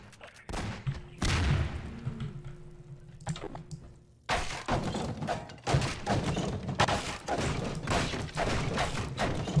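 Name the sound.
gunfire in a video game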